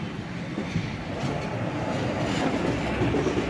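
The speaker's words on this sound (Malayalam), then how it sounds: "മധുര ജംഗ്ഷൻ തിരുവനന്തപുരത്ത് നിന്ന് വരുന്ന Tiruchirappalli intercity super fast express ആണെന്ന് തോന്നുന്നു" Tiruchirappalli Intercity Superfast Express from Thiruvananthapuram rumbling steadily at Madurai Junction, a broad continuous roar with rhythmic wheel clatter, near and even in level throughout, with no voices.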